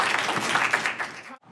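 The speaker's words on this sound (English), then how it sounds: "Please give him a round of applause" Audience applause for Tyler Brown at a premiere event at Clark University, a short burst of crowd clapping that cuts off abruptly near the end.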